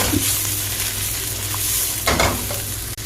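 Onions, mushroom, carrots and celery toss in a hot wok, a loud steady sizzle broken by scraping stir strokes and a brief clatter near the end, close and without talk.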